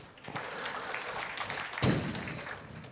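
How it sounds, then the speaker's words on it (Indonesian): A church congregation at a service applauds, a short burst of scattered clapping that swells near the end, moderately loud and without speech. "Berikan tepuk tangannya."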